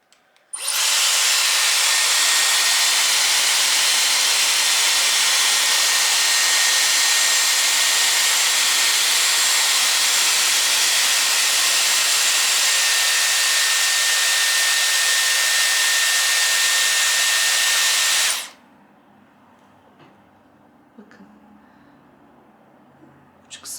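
A Dyson Airwrap hair styler blowing air as it curls the ends of hair, giving a loud, steady, close whoosh that runs for about eighteen seconds and then cuts off, leaving quiet.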